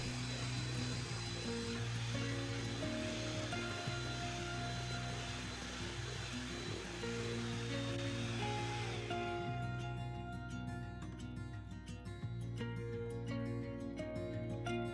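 An electric mixer whirs steadily and loudly as whipped cream is beaten at medium speed, then the motor cuts out, leaving quieter background music.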